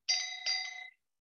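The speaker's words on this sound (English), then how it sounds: "This is the first gong." A gong-like chime struck during a panel discussion to signal speakers to wrap up: two quick bright strikes ringing briefly before fading to silence, with no talk.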